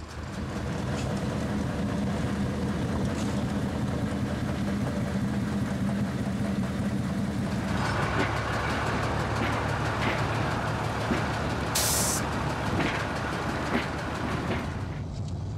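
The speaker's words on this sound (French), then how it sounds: "Le locotracteur numéro 11 entre en gare de Pellevoisin, où il va laisser quelques wagons avant de repartir." Narrow-gauge locotractor no. 11 pulls into Pellevoisin station on the Blanc–Argent railway with a steady engine drone and rattling wagons, loud and continuous, shifting tone halfway through, with a brief high squeal near the end.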